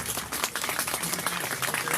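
An audience at a talk on UFOs and parallel dimensions applauds a guest, a thick and continuous wash of clapping that stays loud throughout, with faint voices mixed in underneath.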